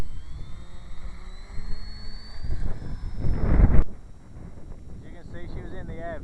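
A Parkzone De Havilland Albatross RC plane with a Park 480 electric motor whines and rises in pitch while wind buffets the microphone, then swells into a loud rush before cutting off, with faint chirps afterward.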